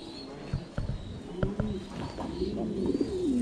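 Domestic pigeons on a breeding farm coo in low, soft, repeated calls over faint background noise, with a few brief thumps and rustles.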